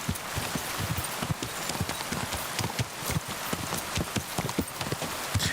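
Horse hooves clip-clopping along a road in Kingdom Come Deliverance 2, a quick steady trot of sharp close hoofbeats continuing throughout over a faint rain-like hiss.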